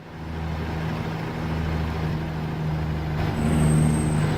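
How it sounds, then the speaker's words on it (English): A heavy truck's engine drones steadily in a truck simulator game with the turbo setting turned all the way up, and a thin, high turbo whistle rises over it near the end, alongside a brief air-brake-like hiss. "And you can actually hear the individual turbo."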